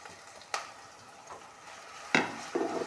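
Onion, shallots, ginger and green chili sautéing in a pan for a traditional Kerala pearl spot fish curry, with a soft steady sizzle and a few brief scraping stirs of a spoon against the pan.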